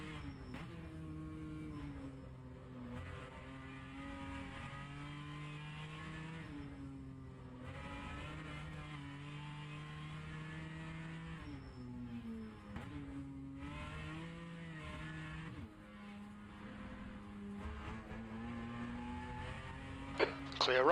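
In the rFactor 2 racing game, an LMP3 race car engine drones loudly and without a break at Sebring, its pitch rising and falling through gear changes and throttle lifts.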